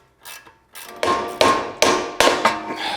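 A tool is struck to pop a ball joint loose on a Maserati Quattroporte GTS suspension, sharp metallic hammer blows landing in an uneven series of about six close, loud hits.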